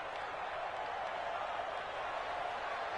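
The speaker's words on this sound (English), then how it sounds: "the crowd getting into it as we come up on a big 3rd down" Crowd cheering and roaring in a football video game ahead of a big third down, a steady dense wash of distant stadium noise with no distinct voices.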